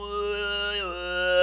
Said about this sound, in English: the style we're going to show right now is called Horik Tir, and it sounds like this